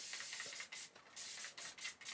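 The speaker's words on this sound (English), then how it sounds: "we're going to spray it." Several short hissing bursts of aerosol hair spray, each lasting a fraction of a second with brief pauses between, close up.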